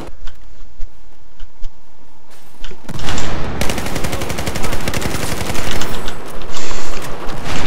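Dense automatic gunfire from the video game Battlefield 4 starts with sparse single shots, then erupts into loud, sustained rapid bursts of overlapping rounds that keep hammering close by, with no talk.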